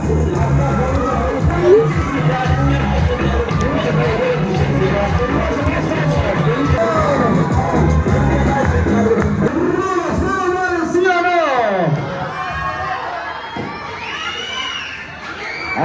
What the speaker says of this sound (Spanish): ¡Eso, fuerte los aplausos para Silvina la Poderosa!